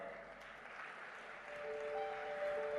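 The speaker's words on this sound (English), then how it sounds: "with a huge round of applause" Audience applause fills a conference stage at the BioAsia 2024 event, a steady wash of clapping that swells slightly louder toward the end, with a faint tonal ring over it.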